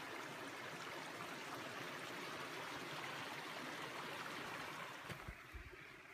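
Creek in Idaho's Coeur d'Alene National Forest flows with a steady, even rushing of water close by, ending in a few soft knocks.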